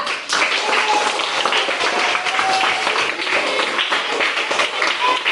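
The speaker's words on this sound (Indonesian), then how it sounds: "Tepuk tangan untuk kelompok 3." A classroom audience claps for a student group after their presentation, a dense burst of applause that starts abruptly and stays loud and even for several seconds.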